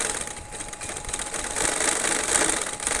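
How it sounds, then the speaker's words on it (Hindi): A sewing machine runs a continuous fast whirring stitch through trouser fabric, close and steady, its rattling drone swelling slightly partway through. "मैं उस हिसाब से थोड़ी दूरी पर सिलाई लगा रही हूँ"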